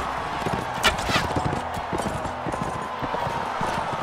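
Horse hooves clip-clopping at a gallop in the Mount & Blade medieval combat game, a steady rhythmic beat under a dense mix of game noise, with a brief whinny early on.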